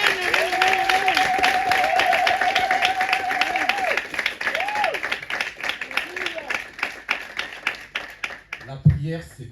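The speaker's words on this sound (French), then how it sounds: "Si on doit acclamer, acclamons bien" Church congregation clapping and cheering at a Sunday service, a steady dense wash of applause running throughout, with a voice singing or calling out over it and a brief loud thump near the end.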